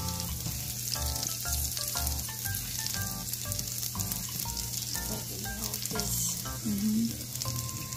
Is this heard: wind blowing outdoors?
no